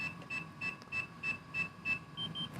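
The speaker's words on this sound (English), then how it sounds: "Push that, you're gonna listen for the beep." FPV drone goggles emit a rapid series of short, clear electronic beeps in a steady rhythm after their pairing button is pressed, with the last pair slightly higher in pitch and no talking.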